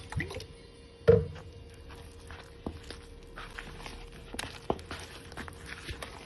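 Pakora batter is mixed with water, giving quiet, irregular wet squishes and soft taps close by, with one sharper knock near the start over a low background hum.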